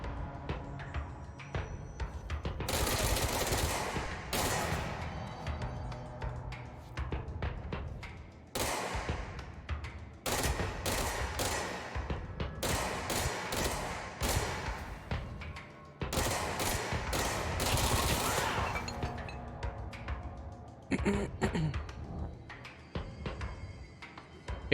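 Repeated bursts of gunfire from a spread-firing, shotgun-like weapon in the video game Control, loud and close, coming in dense volleys with short pauses between them and no talking over it.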